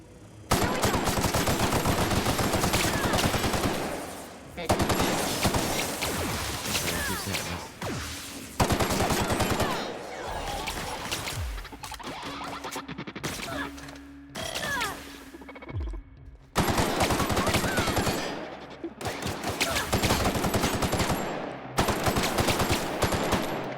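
Rapid automatic gunfire from The Outer Worlds rattles in long, loud bursts separated by brief lulls filled with thuds and clanks, the shooting cutting out and resuming several times.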